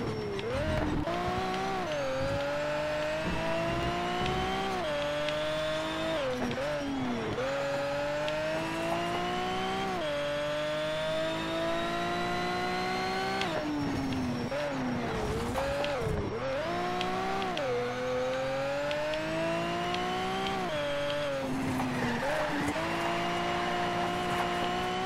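A race car in the driving game Shift 2 Unleashed roars through repeated gear-by-gear accelerations, its engine pitch climbing and dropping sharply as it brakes and shifts, loud and continuous for the whole stretch with occasional tire squeal.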